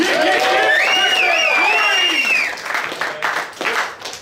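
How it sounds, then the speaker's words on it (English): A crowd cheering loudly, with whoops and shouts swelling together, then breaking into scattered applause and clapping as the noise fades. "Make some noise for Trupar"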